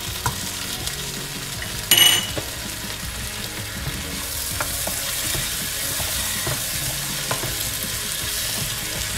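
Tomatoes and green chilies fry with golden onions in a pan for a Bengali hilsa fish head and cabbage curry. A brief clatter lands as they go in, then a steady sizzle continues with occasional soft stirring scrapes.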